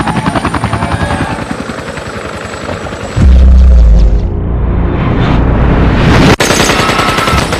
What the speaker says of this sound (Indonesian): muncullah sebuah helikopter yang membantai semua orang terkecuali Jack dan keluarga